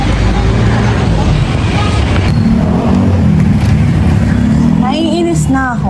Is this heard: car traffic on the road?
yes